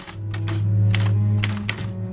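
Typewriter keys punched in quick irregular bursts, sharp mechanical clacks standing out loud and close over a steady low hum.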